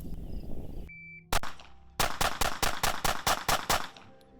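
Glock 43X pistol shots at a shooting range: one sharp, loud report, a short pause, then a rapid, evenly spaced string of about nine more close shots.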